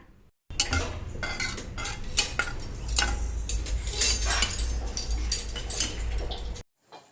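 Pots and steel utensils clatter and clink close by as they are washed, a busy run of irregular knocks and rattles that starts abruptly and stops near the end.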